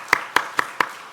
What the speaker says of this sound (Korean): 다 함께 우리 큰 박수로 환영하시겠습니다